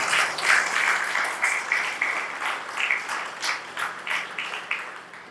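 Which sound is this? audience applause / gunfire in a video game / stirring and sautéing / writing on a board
audience applause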